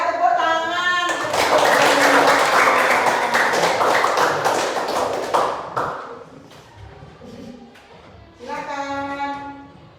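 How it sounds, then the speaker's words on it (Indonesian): A group of people claps in a classroom setting for several seconds, a loud burst that tapers off, with speaking voices before and after. "tepuk tangan"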